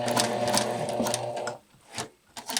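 A sewing machine stitches fabric for a skirt in a steady, close whirring run, then stops abruptly, leaving a few faint handling sounds.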